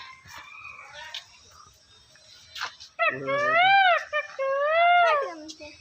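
Birds in the bird enclosure of Tata Steel Zoological Park at Jubilee Park, Jamshedpur, give loud, drawn-out crowing calls in two bursts, preceded by quieter chirps and faint background voices.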